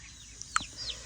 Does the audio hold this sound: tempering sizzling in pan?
no